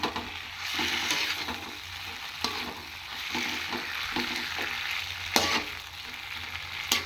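Cauliflower manchurian stirred and mixed in a hot pan, steady sizzling punctuated by rhythmic scraping strokes of a spatula, with one sharper clatter past the midpoint.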